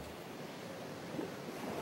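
Ocean surf rolls in on a coast where Betsimisaraka fishermen launch tiny dugout canoes through the breakers, heard as a steady, dense wash of waves with no voices.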